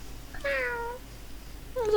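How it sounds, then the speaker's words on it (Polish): A pet cat meows close to the microphone, one clear drawn-out meow followed after a short pause by the start of a second, against a quiet room. "Mam kota na nagrywkach!"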